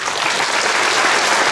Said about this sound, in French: Alors on applaudit les enfants et les grands-parents.